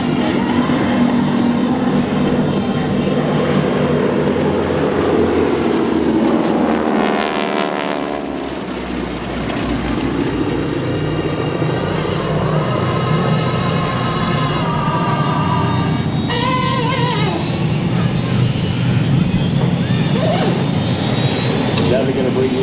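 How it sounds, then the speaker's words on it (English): Military aircraft make a low pass at the Wings Over Camarillo airshow in 2025, a loud, steady jet and engine roar that swells and shifts as they sweep past, with a commentator talking over the noise. "Now they're going to bring these aircraft back around."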